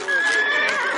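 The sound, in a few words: horse neighing, cartoon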